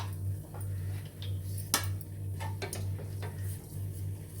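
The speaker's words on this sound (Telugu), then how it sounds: "చిట్టపట్లు ఆడుకున్నాం కదా" Mustard and cumin seeds splutter in hot oil in a home kitchen pan while snacks are being made, with scattered sharp pops and crackles over a steady low hum, fairly close and with no talk.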